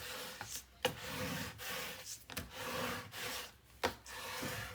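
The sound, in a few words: burnishing paper covering on folio album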